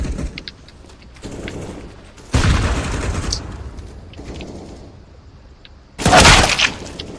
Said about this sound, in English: Flashbang. Deploying flashbang.